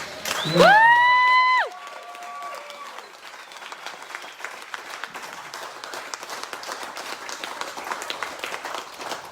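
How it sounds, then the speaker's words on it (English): Wedding guests at a reception break into applause and cheering after a loud whistle-like squeal at the start, then sustained crowd clapping continues at moderate distance for several seconds. "So ladies and gentlemen, a massive round of applause for Mike and Gina."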